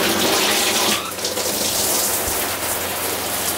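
Steady water spray from a standard RV shower head, a loud, even hiss of falling water running throughout with no voices.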